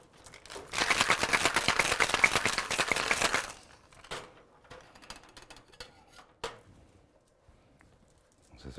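A cocktail shaker full of ice is shaken hard for about three seconds, a dense rattling burst, followed by scattered clinks and taps as the bar tools are handled.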